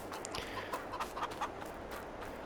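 Chickens in a farming video game cluck in short, scattered bursts over a steady low hum of background ambience, with no talking.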